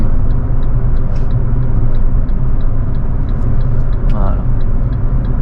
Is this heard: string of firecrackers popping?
no